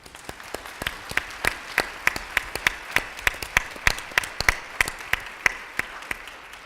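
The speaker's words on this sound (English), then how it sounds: "So first of all, I'd love to have some applause for James," Sparse applause for housing summit panelists, with individual claps landing irregularly in a light, thin pattern, as though few hands are clapping in a quiet hall.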